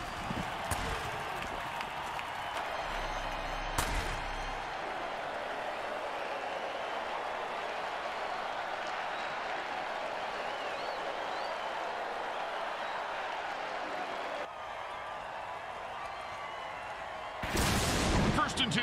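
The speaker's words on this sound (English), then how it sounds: "Listen to this crowd." Crowd cheering and roaring after a touchdown in a mutant football video game, a dense sustained roar filling most of the stretch, with a sharp burst near the start and a louder swell at the end.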